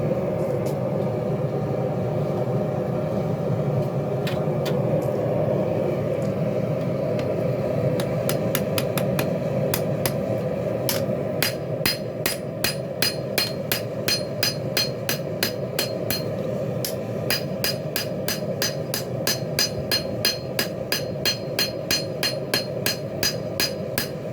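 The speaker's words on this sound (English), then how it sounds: "It's always a good day when you're beating on steel." Hammer blows on hot steel at a forge while drawing out and beveling a Bowie knife blade, a steady run of ringing strikes starting sparse, then settling into a fast even rhythm over a constant roaring forge background.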